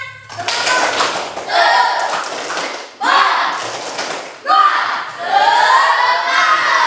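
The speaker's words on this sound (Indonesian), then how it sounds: "Kalau yakin bersemangat, kita tepuk semangat." A classroom of schoolchildren performs the tepuk semangat chant, bursts of clapping and rhythmic taps mixed with loud shouted chanting voices in several surges, close and energetic.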